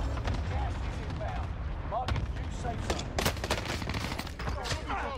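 Cluster strike artillery barrage in Warzone on Rebirth Island, a dense rumble of rapid explosions and gunfire with sharp bursts throughout, loud and continuous, with voices speaking over it.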